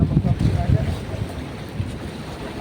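Wind buffets the microphone out at sea from a fishing boat, a loud rumbling roar that swells and eases, mixed with the wash of water and no clear speech.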